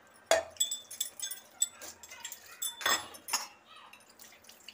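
Brass and copper utensils being washed with water, giving a few light metallic clinks and knocks with dripping water between them, close and fairly quiet.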